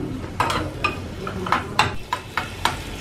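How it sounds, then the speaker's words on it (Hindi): Onions sizzling in a pan with whole red chillies, cumin, asafoetida and finely chopped garlic, with a steady fry under repeated stirring scrapes and light pan knocks about every half second, close and moderately loud. "तो प्याज तो यहाँ पर भुनने लगी है"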